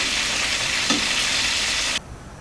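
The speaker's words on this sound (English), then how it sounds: "to fry the chicken for the second time" Chicken frying a second time in hot oil at about 200 degrees Celsius, for Taiwanese salt and pepper chicken, gives a steady, dense sizzle that cuts off abruptly near the end, close and loud, with no voices.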